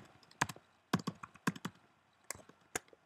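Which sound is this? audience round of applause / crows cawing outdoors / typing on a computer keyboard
typing on a computer keyboard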